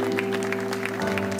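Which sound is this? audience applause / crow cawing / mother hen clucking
audience applause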